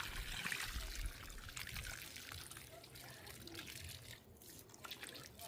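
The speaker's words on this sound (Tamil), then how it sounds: "இப்போ தண்ணி ஊற்றிட்டேன்" Water is poured into a box of soil to prepare it for planting onions, making a soft, faint, steady trickle that lasts throughout.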